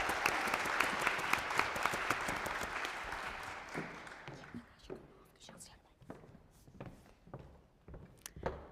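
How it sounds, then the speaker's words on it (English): Round of applause from a conference audience welcoming a keynote speaker: loud full clapping that fades after a few seconds into scattered claps, shuffling and quiet murmurs. "Can we give him a round of applause?"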